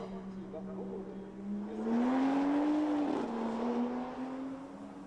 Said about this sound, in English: He gets the grunty Toyota Supra propelled along the pit lane and out onto the circuit.